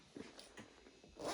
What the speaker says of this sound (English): Pocket with a zip as well.